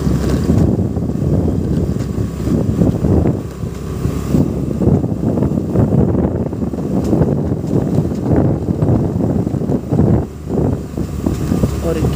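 An evening scooter ride in Hamirpur, with a steady low engine hum buried under heavy rushing wind buffeting the microphone, loud and continuous throughout.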